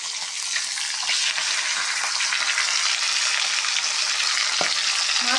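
Sea fish frying in a pan gives a loud, continuous crackling sizzle with scattered pops and small clinks, close by and with no voices.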